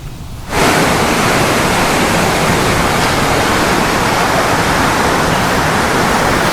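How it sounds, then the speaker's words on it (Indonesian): Loud, steady roar of rushing floodwater at the Manggarai floodgate on the Ciliwung West Flood Canal in Jakarta, swollen after overnight rain; the broadband torrent surges in after a brief quieter moment and holds constant throughout. "Debit air di Sungai Banjir Kanal Barat Ciliwung, tepatnya di pintu air Manggarai, Menteng, Jakarta Pusat, pagi tadi mulai mengalami peningkatan setinggi 730 cm."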